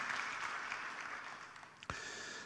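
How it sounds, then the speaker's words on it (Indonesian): A church congregation at a Sunday worship service claps together in a faint, steady patter that holds evenly for a couple of seconds, with a brief sharper knock near the end. "Tepuk tangan bagi Tuhan Yesus."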